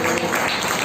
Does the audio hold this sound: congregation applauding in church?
yes